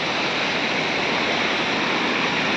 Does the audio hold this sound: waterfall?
yes